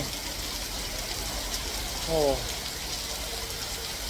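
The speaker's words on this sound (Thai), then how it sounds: "ตกไปทั่วเลยฝนเนี่ย" Heavy storm rain in Kanchanaburi pours down in a constant, dense hiss, loud and unbroken, with a brief voiced exclamation rising above it partway through.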